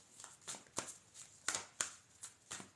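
Goddess tarot cards being shuffled by hand, a series of soft, crisp riffling bursts in a steady rhythm, close and quiet with no voices.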